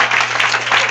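Church congregation applauding during a Spanish-language service, a brief burst of dense clapping that stays fairly loud and even from start to finish.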